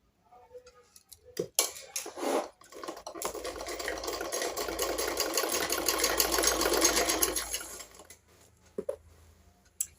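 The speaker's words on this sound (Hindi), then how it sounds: "अब हमने इसमें सिलाई लगा देनी है। दोनों साइड को रख के सिलाई लगानी है।" A sewing machine stitching the lining of a blouse: a few handling clicks, then a steady whirring run of several seconds, close and moderately loud, ending in scattered taps, no talking.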